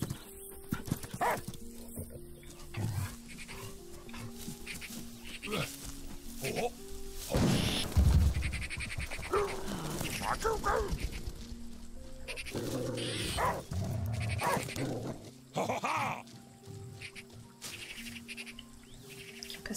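A dog barking in the video game Last Day of June, with several short barks spread through the scene, mixed with bird chirps and game sounds under a person talking.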